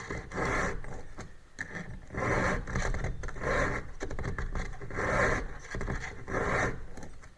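Hand file sharpening chainsaw chain teeth, rhythmic rasping strokes repeated in a steady back-and-forth pattern, close and clear with no talking.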